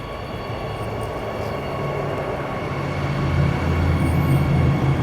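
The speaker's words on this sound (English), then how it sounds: "B series entering and leaving platform 2 of Bayswater, going outbound." A B series suburban train rumbles steadily outbound from Bayswater station platform, its low mechanical drone building gradually louder as it pulls away, with no voices present.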